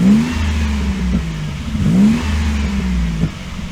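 A 1986 Mazda engine revs briefly twice, the pitch climbing and falling back each time over a steady close idle, with no one talking.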